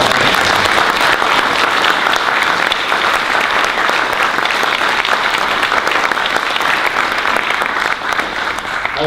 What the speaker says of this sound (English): a little more applause for Kathy.